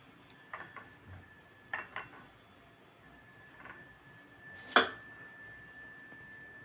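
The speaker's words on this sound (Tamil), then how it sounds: "இப்போ இதை பாதி பாதியாக நாம் கட் பண்ணிக்கலாம்." A knife cuts a sweet lime (mosambi) in half, giving a few sparse, light clicks and taps against a board, ending in one sharper, louder knock. Quiet room with faint background hum between strikes.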